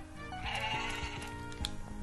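A sheep bleats on the farm in the video game Story of Seasons: Pioneers of Olive Town, a wavering mid-pitched bleat heard clearly over a soft game background.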